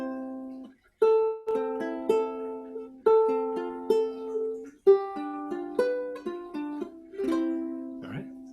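Ukulele fingerstyle accompaniment picked with thumb and fingers, a steady pattern of bright plucked notes in repeating chord shapes, close and clear with no one talking.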